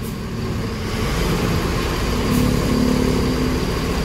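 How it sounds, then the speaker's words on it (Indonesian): A Rosalia Indah executive coach's diesel engine runs smoothly, a low steady hum heard from inside the bus with faint cabin noise and no speech. "Mesin masih halus sekali."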